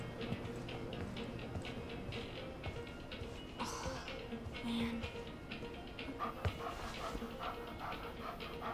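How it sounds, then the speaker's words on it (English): Puppy in the video game Life is Strange 2, soft whimpers and yips mixed with panting over outdoor ambience, with occasional voices in the background. "It's a puppy."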